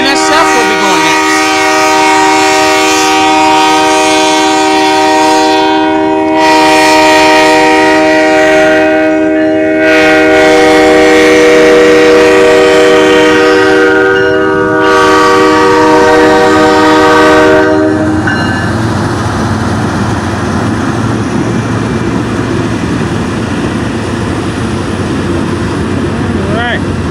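Union Pacific local manifest freight train entering a rail yard, a loud sustained horn sounding in repeated long blasts over rumbling wheels, then the heavy rolling clatter of cars passing close by; a voice speaks briefly.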